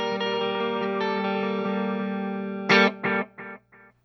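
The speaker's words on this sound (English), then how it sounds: "the TWA Flyboy Echo pedal is one of my favorites for clean sounds" A clean electric guitar chord rings out through a TWA Flyboy Echo pedal, then a burst of delayed repeats follows, several echoes fading successively quieter.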